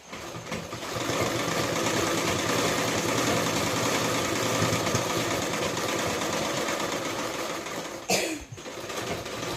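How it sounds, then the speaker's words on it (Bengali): A sewing machine runs continuously while stitching the band of a princess-cut blouse, giving a loud, close, steady motor whir that breaks briefly near the end and then resumes. "এখানে কী করলাম, দিয়ে আমি সেলাইটা দেবো"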